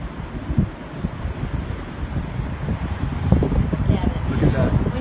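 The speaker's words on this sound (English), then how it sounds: "Feel the wind?" Strong, steady wind from a tornado coming ashore buffets the microphone in a continuous low roar that builds slightly toward the end, with people talking faintly underneath.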